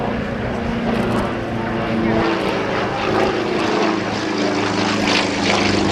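An aerobatic propeller plane flies rolls at an air force base open house airshow, its loud, steady engine drone filling the whole stretch while a commentator talks over it on the public address.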